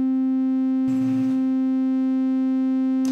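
Synthesizer with two oscillators layered for a bass and synth tone: a steady, loud, pure buzzing drone holds throughout, with a brief burst of noisy hiss added partway through, and no one speaking.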